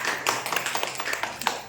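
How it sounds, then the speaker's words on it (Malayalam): A group of people claps at a shop's first sale, handed to a ward member, in a quick run of close, scattered claps lasting under two seconds. "എല്ലാവരും ഒന്ന് കൈയടിച്ചോളൂ."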